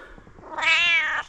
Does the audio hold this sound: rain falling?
no